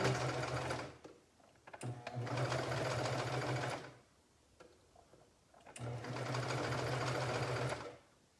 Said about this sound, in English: I've got a 3-thread cover stitch going here, 3 needles